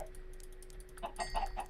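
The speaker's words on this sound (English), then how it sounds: "Come here, chickens. Eat your food." Chickens in a video game give a short burst of clucks alongside clicking keys, faint and close against a low background hum.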